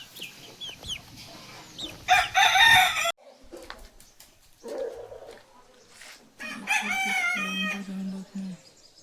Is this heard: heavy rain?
no